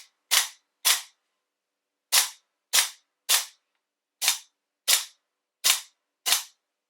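A CZ Shadow 2 pistol fitted with a gas-powered dry fire training system fires nine sharp, loud snapping shots, singly and in quick pairs and triples, each cracking cleanly out of near silence.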